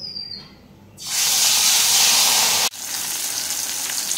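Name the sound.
fish frying in hot oil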